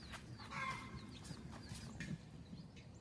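A hen and her little chicks on a winter farm cluck and peep softly and fairly faintly outdoors, with short high chirps scattered over low, steady clucking.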